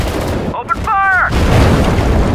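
Gunfire and explosions in the WWII strategy game Sudden Strike 4, heard as a steady rumbling barrage with sharp bursts, loud throughout, while a voice briefly speaks over it.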